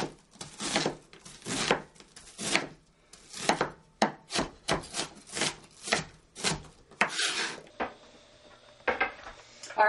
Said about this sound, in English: I've chopped 3 large onions